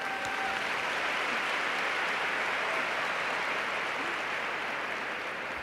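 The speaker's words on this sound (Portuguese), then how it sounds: "Vamos aplaudir." An audience at a worship congress applauds, a broad, continuous wash of clapping from a large crowd that holds steady throughout.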